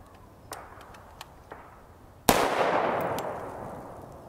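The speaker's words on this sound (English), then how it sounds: "we'll fire the 10 rounds out of here for velocity" A short-barrel rifle fitted with a muzzle brake fires a single 5.56x45mm MK262 77-grain round, a loud sharp crack followed by a long ringing decay outdoors, preceded by a few faint small clicks.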